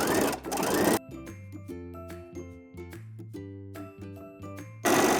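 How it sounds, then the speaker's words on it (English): A sewing machine back stitches over overlapped elastic at the waist of a dress made from a sweater, its motor whirring in short bursts with clicking stops between runs, close and fairly quiet. "you want to overlap your elastic and make sure you're back stitching."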